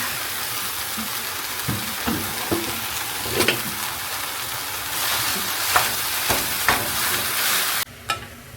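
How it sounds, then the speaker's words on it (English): Two pounds of ground beef frying in a pan, a steady close sizzle with intermittent scrapes and clacks of stirring, then a sudden drop in the hiss near the end. "I added the entire beef in the pan"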